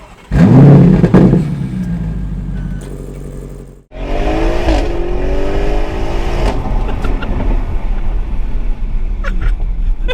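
An Audi RS6 accelerates on a drive, heard from inside as a loud engine surging through rising gears after a brief pause, with a short burst of talk near the start.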